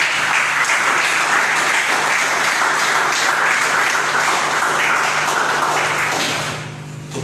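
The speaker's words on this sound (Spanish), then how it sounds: "Denle un fuerte aplauso al Señor," A church congregation at a Spanish-language service bursts into loud, sustained applause that holds steady for several seconds, then quickly fades out near the end.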